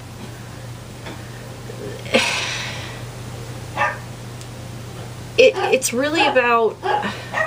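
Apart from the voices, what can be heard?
dogs barking in the background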